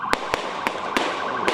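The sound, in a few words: gunfire during police chase in Washington D.C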